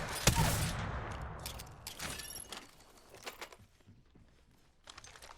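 The Rampage light machine gun firing in Apex Legends, a loud sharp opening burst that thins into scattered quieter shots and clicks.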